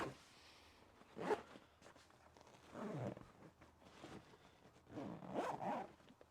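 A zipper is pulled in several short, scratchy strokes with pauses between, close and fairly quiet.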